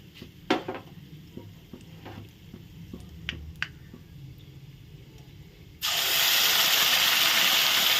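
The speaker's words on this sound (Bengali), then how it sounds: "ফোড়নটা ভালো করে ভেজে নেওয়া হয়ে গেল এখন আমি দিয়ে দিব পেঁয়াজ" Onion dropped into hot oil already fried with cardamom, cinnamon and cloves bursts into a loud, steady sizzle partway through, after a quieter stretch of faint stirring and clinks.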